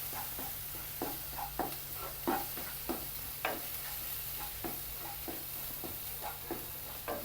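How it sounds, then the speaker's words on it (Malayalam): Mushroom masala is sautéed in a pan with Kashmiri chili powder and coriander powder, a quiet continuous sizzle broken by repeated scraping stirs of a spoon at an irregular rhythm, close up and without talk. "നല്ല വഴറ്റിയെടുക്കേ."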